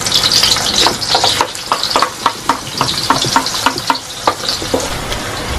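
Onion and garlic sauté in hot oil in a pan, a loud crackling sizzle broken by repeated sharp scraping strokes of a utensil against the pan at an uneven rhythm, with no voices.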